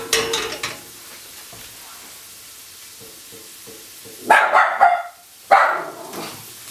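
A dog named Zeus barks in short loud bursts from another room over a quiet kitchen where onion and carrot soften for yakisoba, one cluster of barks followed by another.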